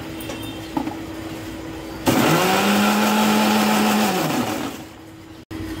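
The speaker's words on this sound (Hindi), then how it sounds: "और ये मैं डाल रही हूँ दही और प्याज पीस रही हूँ मैं।" A kitchen mixer grinder whirs loudly and steadily for a couple of seconds while grinding curd and onion for a masala, rising abruptly over faint background hum and then spinning down.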